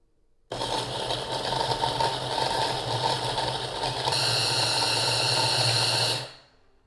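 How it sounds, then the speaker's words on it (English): Food processor whirring as it blends soaked dates with peanut butter, starting abruptly, running loud and steady for about six seconds with a slight pitch shift partway, then winding down. "And then we're going to mix them with the food processor."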